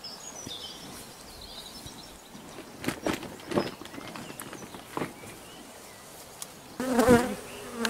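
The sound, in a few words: bees buzzing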